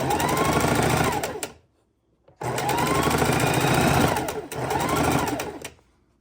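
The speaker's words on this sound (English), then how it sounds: "sew our rows together, making sure our seams are lining up and that our seams are facing towards the yellow." A sewing machine stitches quilt rows together in three steady, rapid bursts, with short pauses between runs.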